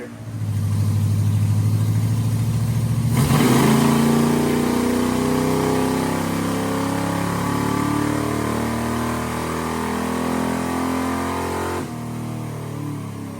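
A V8 engine more than 40 years old, running without nitrous on a dyno, idles with a low drone, then revs hard through a sustained, rising pull before dropping back off, loud and close with no talk.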